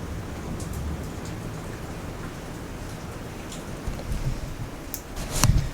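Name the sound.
rain leaking into a room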